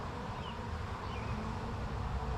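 Bees in a swarm box in a shop hum in a low, continuous drone. A few brief higher buzzes of individual bees stand out faintly above it, and no one speaks.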